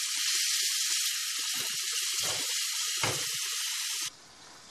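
Vegetables sizzling in hot oil in a pan for vegetable borscht, a loud steady hiss broken by a few stirring scrapes, then it cuts to a quieter hiss near the end.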